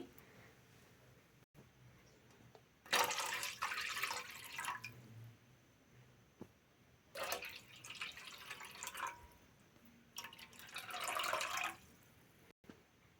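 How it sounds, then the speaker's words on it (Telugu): Four cups of water poured into a pan on a lit stove while making maize porridge (corn sankati), coming in three separate splashing bursts with quiet pauses between them and no talking. "ఫోర్ కప్స్ వాటర్ పోయాలి"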